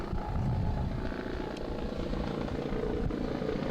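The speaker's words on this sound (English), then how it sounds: "here comes the UMass medical helicopter again" A medical helicopter flies over a rowing regatta, its rotor thumping steadily and loudly overhead with a constant engine drone throughout.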